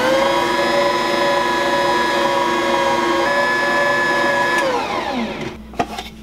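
An electric mixer churns soft pretzel dough with a loud, steady whirring motor hum that holds for several seconds, then winds down and stops, followed by a small clunk.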